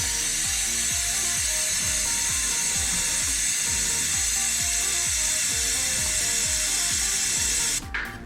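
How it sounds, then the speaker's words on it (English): Chain cleaner sprays onto the chain of a Yamaha TW200 motorcycle while the rear tire is spun by hand, giving a steady hiss over fast, even ratcheting clicks from the turning chain and sprocket for about eight seconds before cutting off. "take my chain cleaner, right there, and spray it on the chain while I spin the tire"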